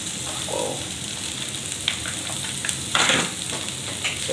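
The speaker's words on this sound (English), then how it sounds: "Then he will add this coconut oil" Okra stir-frying in coconut oil in a pan, a continuous close sizzle and crackle with a few brief stirring scrapes on top, steady throughout with no talk.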